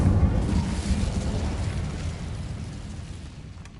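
An Incendio fire spell in Hogwarts Legacy erupts with a loud burst at the outset, then a broad roaring whoosh of flame that slowly fades over a few seconds.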